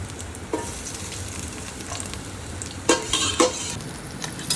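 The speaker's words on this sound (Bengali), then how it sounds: "মাছটা প্রথমে তেলে দেবে একটু রসুন কুচি" Carp fish pieces and chopped garlic sizzle steadily in hot oil, with a close, even crackle and a few louder spatters and scraping stirs near the end.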